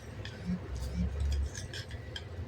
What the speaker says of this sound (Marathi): आता नंतर आपण यामध्ये साखर घालणार आहे. एका कपाला 2 चमचे याप्रमाणे